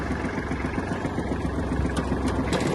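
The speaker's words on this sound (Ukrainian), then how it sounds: "Щоб завести тракторець, вмикаємо запалення і заводимо." A Kubota GL-19 Japanese mini tractor engine idles close by, a steady, even mechanical chugging with a fast regular pulse and no talking.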